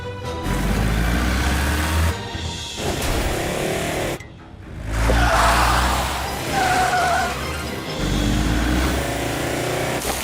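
A cartoon car races off during a chase, its tires squealing and skidding loudly in bursts while the engine roars, the noise briefly dropping out before surging back and staying loud to the end.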